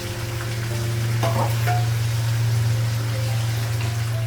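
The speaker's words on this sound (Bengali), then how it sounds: "মাংসটা কষে নেব" Meat sizzles steadily in a hot pan, a constant frying hiss with a low hum underneath and a few faint clinks of stirring.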